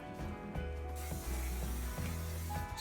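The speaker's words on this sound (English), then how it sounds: "Spray your casserole dish lightly inside, just for easier cleaning." Cooking spray hisses from a can into a casserole dish in short bursts, a soft close spritz over faint background music.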